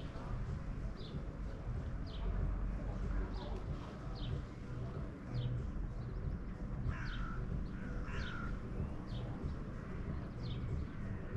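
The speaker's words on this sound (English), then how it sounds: "Let's hear the crow." A crow caws repeatedly in short harsh calls at a moderate distance, spaced every second or so, over steady low outdoor rumble near a suburban lakeside at sunset.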